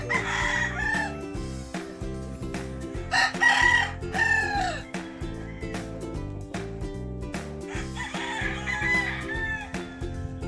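A Boston Sweater gamefowl rooster, a local bandit at a game farm, crows loudly several times over a steady background hum, with other birds clucking and calling nearby.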